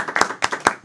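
A round of applause at a mad scientist tea party in Asheville, NC: a few close, crisp hand claps in a quick uneven rhythm, loud and clear with no talking.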